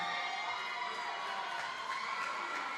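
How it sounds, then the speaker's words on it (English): A loud cheer squad at a fight night in Traralgon, a dense steady wall of crowd cheering and shouting that holds at constant volume throughout. "that cheer squad up there, I'll tell you what, they're a loud bunch"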